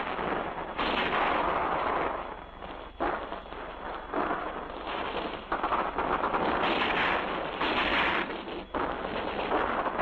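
Continuous dense battlefield gunfire and artillery-like rumble from a WWII infantry training film, loud and sustained throughout with repeated bursts and surges, no speech heard.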